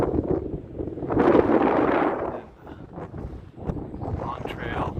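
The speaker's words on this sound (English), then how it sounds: "Wind is pretty strong right now." Strong gusts roar across the microphone on a Long Trail training hike, rising and fading in waves, with a person speaking briefly amid the buffeting.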